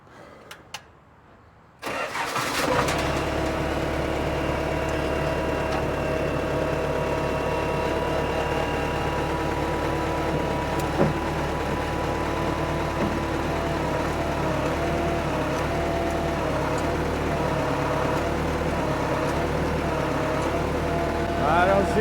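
A Case 1845 skid steer engine cranks briefly, then catches and settles into a steady, loud diesel idle that runs unbroken nearby after a hydraulic line repair; a voice is heard faintly at moments.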